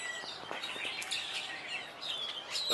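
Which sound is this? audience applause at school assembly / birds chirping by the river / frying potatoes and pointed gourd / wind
birds chirping by the river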